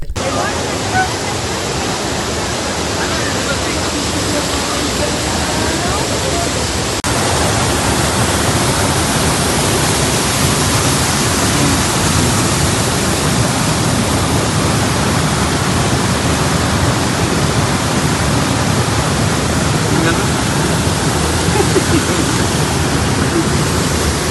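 Hogenakkal waterfall roars as a loud, steady, broadband wash of falling water that fills the whole scene without a break, heard close by.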